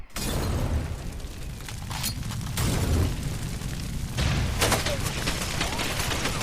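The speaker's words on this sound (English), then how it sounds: "All the ammo starts shooting everywhere when you blow that up." In the Far Cry video game, a stash of ammunition is blown up and cooks off in a dense, continuous rattle of pops and booms. The bursts are heaviest in a few surges and sound fairly distant.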